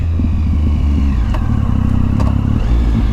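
A Triumph Speed Triple motorcycle engine runs loud and close, a deep steady rumble with a slight rise in revs near the end and a couple of faint clicks over it.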